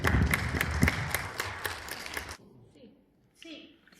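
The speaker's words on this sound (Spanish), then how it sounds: "Un fuerte aplauso, por favor." Audience applause at a library and documentation seminar in Peru, a dense burst of clapping for about two seconds that stops abruptly, followed by quiet room noise and faint voices.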